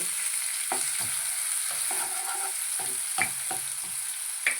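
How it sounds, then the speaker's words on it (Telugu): Chopped onion sizzles steadily in a hot pan of oil with cumin seeds, a continuous close frying hiss broken by repeated scraping stirs of a spoon, with no talking. "జీలకర్ర వేసుకున్నాక ఆనియన్ వేశాను"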